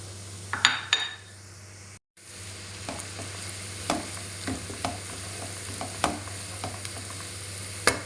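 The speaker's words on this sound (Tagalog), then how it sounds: "Pag bagyang luto na nga po yung sibuyas, ilagay na po natin yung bawang." Onion and garlic sauté in butter in a pan, a steady sizzle broken by a brief gap and then scraped and stirred with a utensil, with soft clinks of metal on the pan.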